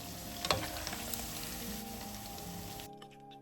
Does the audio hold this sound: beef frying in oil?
yes